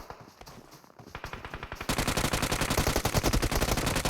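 Automatic gunfire rattles through a PUBG Mobile firefight, starting as quieter, spaced shots and then becoming a loud, rapid, sustained volley of closely packed bangs for the last two seconds, with no talk over it.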